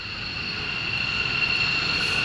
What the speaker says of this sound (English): You don't mind the jet noise, I'm sure.